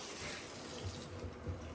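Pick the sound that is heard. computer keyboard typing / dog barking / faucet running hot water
faucet running hot water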